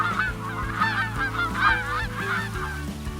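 Several geese honk loudly and repeatedly, overlapping calls close by over a steady low background hum.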